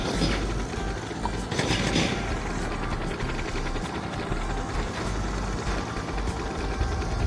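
Steady motorcycle engine drone in the video game Gangstar Vegas at a military base, continuous and fairly loud throughout with a few heavier bursts, no talk heard.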